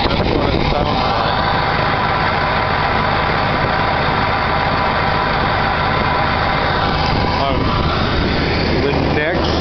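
A cold car engine idling with an aftermarket air filter kit fitted, a loud, steady close-up drone with an airy intake rush, with a voice talking over it.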